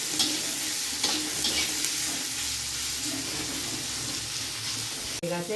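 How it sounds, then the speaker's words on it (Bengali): Tomatoes frying in a pan give a continuous close sizzle with light stirring scrapes and a brief clatter near the end, no voices. "এটা ভেজে নেব সুন্দর করে ভেজে"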